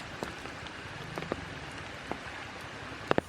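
Monsoon rain falls over forest as a soft, steady hiss, with a few louder drips and drops tapping close by now and then.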